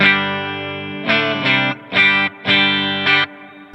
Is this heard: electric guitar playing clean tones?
yes